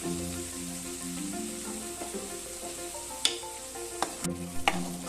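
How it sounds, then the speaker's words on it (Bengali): Mustard and chili paste frying in oil as it is stirred, a soft continuous sizzle with a few sharper spatula taps and scrapes toward the end, no talking. "এবার একটু নেড়ে নিচ্ছি।"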